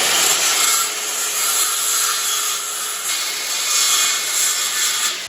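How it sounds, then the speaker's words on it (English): A hand saw cuts through wooden braces for a plywood jon boat in close, continuous rasping strokes that run almost without pause, with no voices. "I'm going to be cutting 1 inch off of each one of these so that I can judge for the thickness again of the plywood on the sides."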